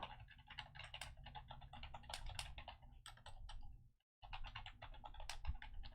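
A brand-new computer keyboard clatters under fast, continuous typing, dense irregular keystrokes close by, broken by one brief pause before the typing resumes.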